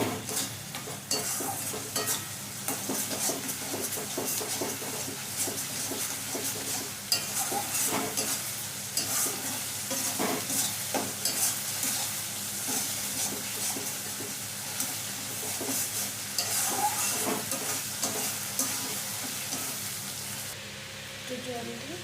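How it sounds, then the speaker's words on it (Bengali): A spice masala with turmeric powder and a pinch of sugar is sautéed in a pan for a young jackfruit kofta curry, making continuous close sizzling broken by frequent stirring scrapes and clatters, with no one talking. "এবার মশলাটা ভালো করে কষিয়ে নেব।"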